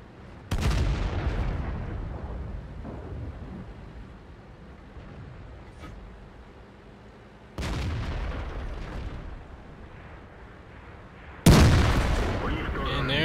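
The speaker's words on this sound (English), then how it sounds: "There goes the ammo rack." An ammo rack detonating in World of Tanks during an IS-3 battle, with three heavy, separate booming blasts spread apart. Each one bursts loud and then fades into a low rumble.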